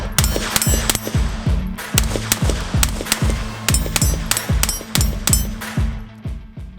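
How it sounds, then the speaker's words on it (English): A Kel-Tec P17 .22 pistol fires hollow point rounds in a fast, steady string of close, sharp cracks, one after another, with barely a pause between shots. "let's go ahead and put these rounds on target"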